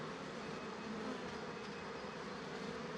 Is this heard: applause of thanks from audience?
no